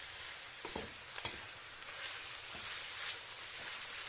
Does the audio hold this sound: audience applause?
no